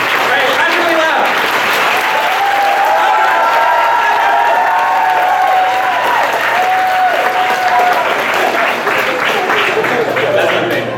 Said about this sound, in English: Alright, clap really loud.